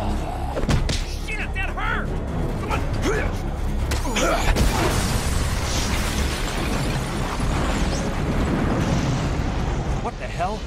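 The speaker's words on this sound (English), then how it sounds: "That explosion came from the shower room." A booming explosion and heavy slams ring out near the start of a video game scene set around a shower room, followed by a long rumbling, crackling wash with voices talking beneath it.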